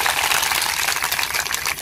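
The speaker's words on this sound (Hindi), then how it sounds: "लीजिए गुलाबी जी के लिए जोरदार एक बार पूरे ताली" A crowd claps loudly and steadily for a speaker at a community gathering during the Khunt/Akhadi Pandum festival, a dense unbroken wash of applause lasting the whole moment.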